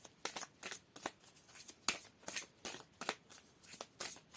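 Tarot cards being shuffled by hand, a quick run of crisp riffling bursts in steady rhythm, close and fairly quiet with no talk.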